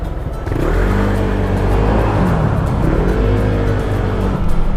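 A truck rumbles past on a town road in Cavinti, Laguna, its engine drone loud and close with a rising and falling pitch over steady road noise.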